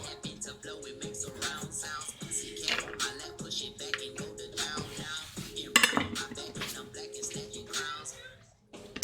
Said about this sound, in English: we're gonna take 2 cloves of garlic, already peeled these